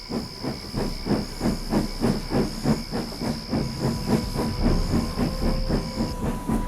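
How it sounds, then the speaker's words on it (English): A steam engine puffs slowly into a tunnel with steady, rhythmic chuffs about three per second, loud and close over a hissing background and a high whistle-like tone that stops near the end. "So Thomas puffed slowly into the tunnel"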